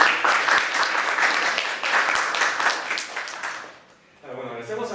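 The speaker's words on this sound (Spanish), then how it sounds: "Un aplauso, un aplauso." An audience applauds after a history talk, a dense burst of clapping lasting a few seconds before fading out, with a voice speaking briefly at the end.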